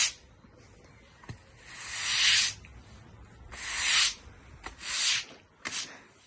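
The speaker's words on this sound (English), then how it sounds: "we're going to wash this off now, this concrete, so it's nice and clean" Water spraying onto a concrete base in bursts, with several loud hissing washes of a second or two each separated by short pauses, close by and with no talking.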